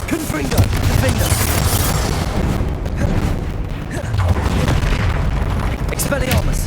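Confringo blasting-spell explosions from the video game Hogwarts Legacy boom in dense, rapid succession with a continuous heavy low rumble, loud and close, while a voice talks over the combat.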